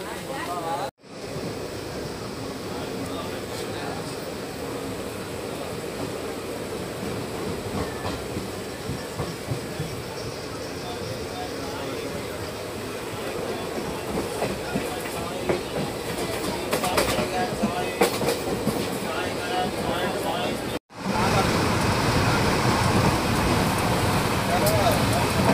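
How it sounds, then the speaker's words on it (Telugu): Puri Tirupati Express pulling in at platform 2 of Vetapalem station, a five-platform stop: a steady, loud rolling rumble with faint wheel clatter runs throughout, broken by two brief dropouts. "ఇప్పుడే ట్రైన్ వేటపాలెం స్టేషన్కి వచ్చింది"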